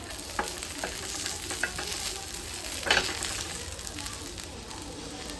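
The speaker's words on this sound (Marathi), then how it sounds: "मिरच्या छान अशा भाजून घ्यायच्या" Green chillies roast on a hot griddle with a continuous sizzling hiss, broken by a few light scraping and turning sounds and one brief louder crackle near the middle.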